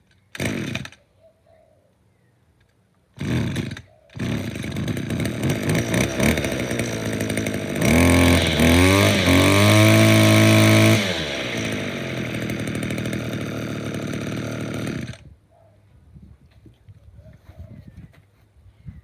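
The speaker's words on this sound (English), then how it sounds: "Awesome trimmer. FS56 from" A 1995 Stihl FS56 string trimmer pulled over after a cold start, with a couple of short bursts before the two-stroke engine catches and runs steadily, rising to a louder high-revving stretch, then dropping back off, close and loud.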